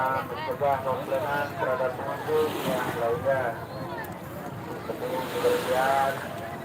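Steady wash of surf and wind buffeting across the whole stretch at Ancol Beach, Jakarta, with voices chattering over it.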